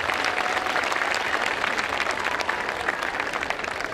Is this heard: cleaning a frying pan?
no